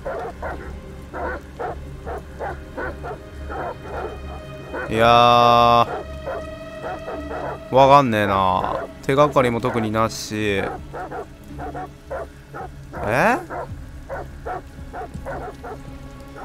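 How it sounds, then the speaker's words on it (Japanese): A dog barks repeatedly in a steady series in Detroit: Become Human, set against rain sounds, while someone talks over it at times. "犬でしょ"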